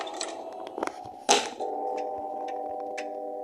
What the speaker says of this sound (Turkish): Yalnız şu saat sesi var ya benim hoşuma gitti ha.